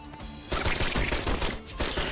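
A drum-fed gun in the Dust and Aliens shooter lets loose a loud, close stream of rapid shots after a brief quieter lead-in, sustained with only a short dip before resuming.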